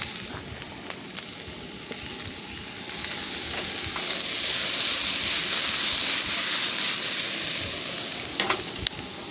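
Mushrooms tossed into a hot pan of kielbasa rice with garlic and tomatoes sizzle and fry steadily, swelling louder midway, with a few sharp clinks of stirring near the end.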